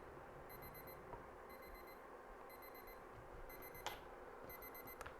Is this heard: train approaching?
no